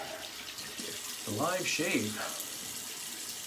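A bathroom tap runs water into a sink for a cold rinse after a wet shave, a soft steady splashing flow that swells briefly in the middle as someone speaks over it.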